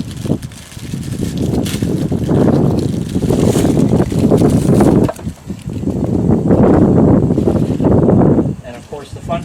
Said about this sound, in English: the fun part is it's a bit windy, so these are going to get blown all over the place